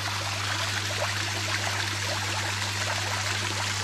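Water rushes steadily from the outlet of a water pump on a smoker, a continuous close splashing flow over a low, constant hum.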